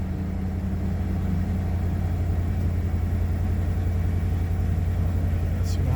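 Range Rover L322 engine running at idle, a steady low rumbling drone with an even hum throughout, close and continuous, with a faint high chirp near the end.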